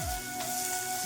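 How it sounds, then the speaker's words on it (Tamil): Tomatoes and onions with salt sautéing in a pan, a soft steady sizzle with faint stirring scrapes, quiet and close with no voices. "உப்பு போட்டு அப்படியே வதக்கலாம்."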